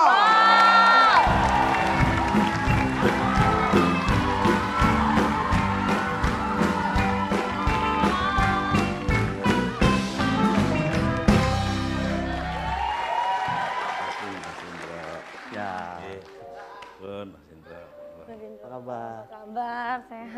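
Studio audience cheering and applauding on an Indonesian TV talk show as Indro Warkop is welcomed, a loud sustained crowd roar with whoops that fades toward the end under music.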